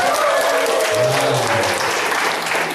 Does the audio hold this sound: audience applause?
yes